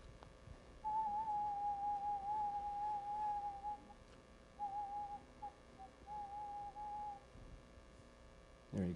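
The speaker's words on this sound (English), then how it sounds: "I have to whistle at a lower frequency for that." A person whistles a steady, sustained tone in a quiet room, holding it for several seconds, then giving two shorter bursts after a pause, thin and fairly faint.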